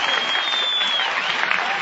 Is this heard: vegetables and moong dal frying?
no